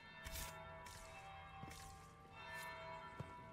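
In the video game Dragon Age Inquisition, a bell tolls faintly several times in a steady, spaced rhythm, its metallic strikes mixed with light swishing and soft footsteps.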